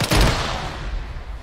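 A frag grenade detonates in ArmA 3 gameplay: one loud, close boom followed by a rolling rumble with crackling gunfire trailing off over a second and a half.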